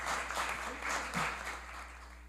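Applause fills a municipal council chamber during a plenary session honouring someone, a brief, fairly faint patter of clapping over a low steady hum.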